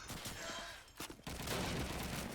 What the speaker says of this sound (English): Go for a quick scope shot there.